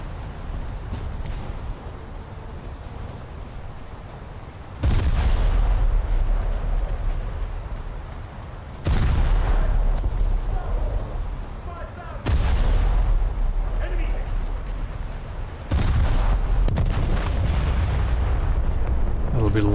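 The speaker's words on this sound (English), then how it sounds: "That'll be the last salvo against it." Naval gun salvos boom from a World of Warships-style naval video game featuring the German battleship Scharnhorst, four loud heavy blasts at uneven intervals, each followed by a long rumbling decay over continuous low engine and sea rumble.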